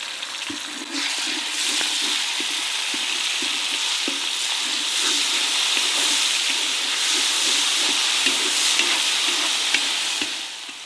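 Ginger garlic paste sizzles and spits in hot oil in a black kadai along with green chillies, a dense, steady frying hiss up close with scattered crackles and stirring scrapes.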